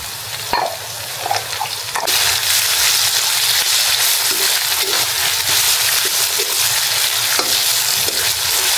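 Garlic and ginger paste with green chilies dropped into hot oil for Bengali chicken kosha, a sharp clatter followed by a loud, sustained close sizzle that swells after two seconds, with occasional stirring taps and no talking.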